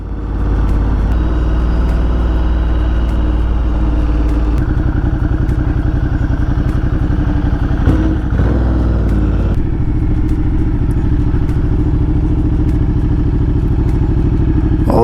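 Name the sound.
motorcycle ride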